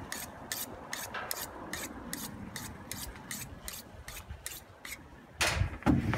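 A knife blade drawn repeatedly across a sharpener, about fourteen evenly spaced rasping strokes in a steady rhythm, close and moderately loud, ending with a louder scraping rub.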